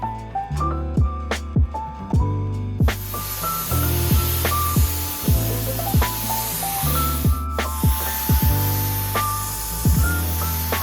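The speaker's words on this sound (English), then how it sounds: "I loaded my detail finish nozzle from Wagner with crystal clear matte polyurethane from Barathane and applied 3 coats" A Wagner sprayer with a detail finish nozzle lays crystal clear matte Barathane polyurethane onto old speakers being turned into end tables, a steady close hiss that starts partway through and runs under background music.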